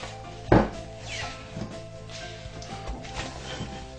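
Risen agege bread dough, doubled in size, is punched down with one heavy thump into the soft mass, then quieter handling sounds follow.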